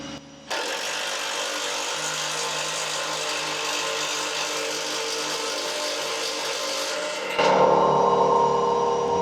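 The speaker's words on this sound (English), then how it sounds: "And the way that Mike uses his socket to bring that nut in is almost the exact perfect distance." Power tool or socket driving a nut down onto a spring while a Boss DXT angle blade snow plow is assembled, one continuous loud whirring buzz for about seven seconds that shifts pitch near the end.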